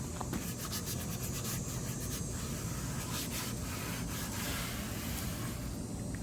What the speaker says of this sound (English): Now I just sanded it down.